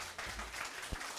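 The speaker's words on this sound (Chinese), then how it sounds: "掌声谢谢" A crowd at a technical talk on functional programming applauds steadily for about a second, a dense wash of clapping with no voices.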